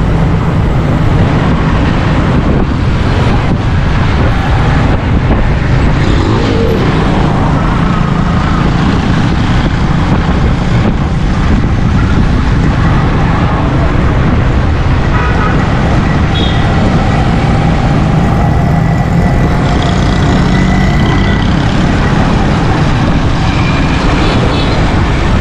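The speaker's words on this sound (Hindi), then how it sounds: "यहाँ पर तो कुछ ज़्यादा हवा चल रही है, लेकिन मैं मोटरसाइकिल स्लो इसलिए चला रहा हूँ" A motorcycle rides slowly along a Karachi road as strong cyclone winds roar, producing a constant loud low rumble of wind buffeting and engine noise throughout, with no clear pauses.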